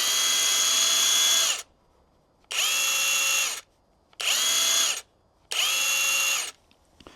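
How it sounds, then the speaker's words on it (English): A SeeSii cordless 1/2 inch drive impact wrench running free in four separate bursts of high whirring motor whine, each lasting about a second, with short silences between them. "our nice little impact wrench right here, and this one is a 1/2 inch drive"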